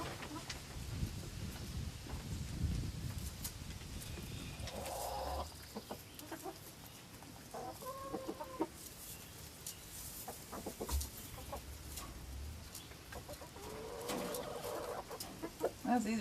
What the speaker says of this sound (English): Look, Rooster.